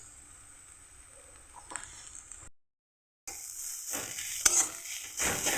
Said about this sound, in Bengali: এবার মশলাটাকে আমি ভালো করে ভেজে নেব।